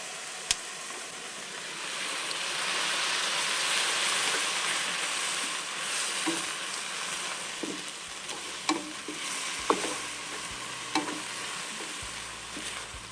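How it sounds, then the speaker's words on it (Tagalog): Salted egg carbonara cooking in a pan, with mushrooms from a pouch, gives a steady close sizzle and frying hiss with occasional stirring clinks and scrapes against the pan; no talking. "itong niluluto ko ay salted egg carbonara"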